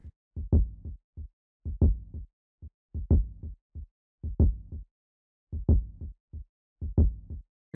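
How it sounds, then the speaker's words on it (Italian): A heartbeat-like kick drum pattern from a beat built in FL Studio, with deep thumping hits in paired and triple groupings separated by silent gaps, close, clean and isolated. "Il pattern è molto interessante perché richiama un pochettino il battito del cuore"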